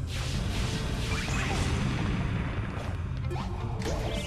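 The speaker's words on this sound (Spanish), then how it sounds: "tampoco voy a romper todos y cada uno de los cristales" Crystals shattering in the Sonic Lost World video game, repeated crisp smashes with swishing sweeps layered over steady background game music, a handful of hits at a moderate level.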